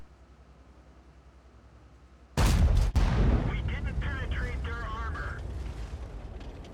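A WZ-111 tank cannon fires in a video game on the Mines map, a sudden loud boom followed by a second sharp crack and a long rumbling, crackling tail, with whining mechanical tones layered over the fading blast.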